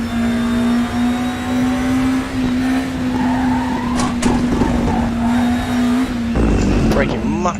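A 1992 DTM Audi race car in the Raceroom racing game, its engine holding a steady loud drone with tire squeal and shifts as it brakes and accelerates through corners.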